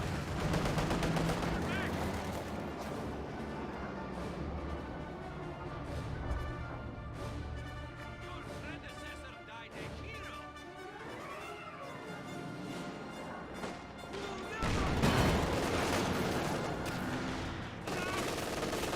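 Company of Heroes 2 combat with a 120mm mortar and scattered gunfire, repeated shots and bursts under busy battle noise, with a voice speaking at times.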